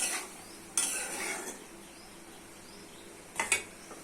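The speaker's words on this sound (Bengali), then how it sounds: "পেঁয়াজগুলো ভালো করে কষে কষে রান্না করে নিতে হবে" Onions, tomato and spices cooked down in a pan, heard as a few quiet scraping stirs and utensil clinks against the pan with a faint background sizzle, separated by calm gaps.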